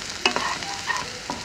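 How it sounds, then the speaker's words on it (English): Onions and green chilies with capsicum saute in a pan, a soft sizzle under a few quick scraping stirs in a brief close burst. "I'm going to saute this."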